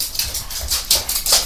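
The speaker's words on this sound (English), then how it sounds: "sounds of my dogs" Several pet dogs, one a pug, playing in another room of a home, with scattered scuffles, soft whimpers and yips in short uneven bursts, muffled and moderately distant, with no talk.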